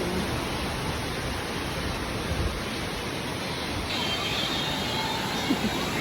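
Rushing flood water of a swollen creek near a floating footbridge, a dense, continuous roar filling the whole clip, close and loud with no pauses.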